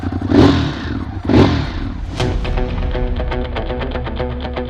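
A Ducati Monster 821 motorcycle engine rumbles through its stock exhaust pipes: two quick throttle blips, then a steady, pulsing idle close by.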